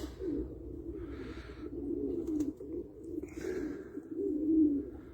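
Low, throaty cooing of an angry male tumbler pigeon repeats in steady rolling phrases, with faint chirps from other birds overhead.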